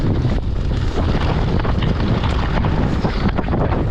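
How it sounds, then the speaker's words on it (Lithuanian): Strong wind batters the microphone while mountain biking on Holyhead Mountain in Anglesey, a loud continuous roar with gusty rumbling buffets and no voices. "O, čia jau vėjas duoda."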